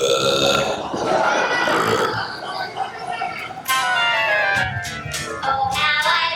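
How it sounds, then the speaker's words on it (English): Burping performed on stage in a school production of the musical Willy Wonka Jr., with long, loud, drawn-out belches and voices over a busy, noisy background. "Burping is the answer."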